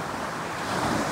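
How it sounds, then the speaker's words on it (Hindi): Ocean waves surge onto Madhavpur beach in a loud, continuous rushing wash, swelling slightly toward the end, with heavy wind buffeting the microphone. "ये देखो पानी आया है"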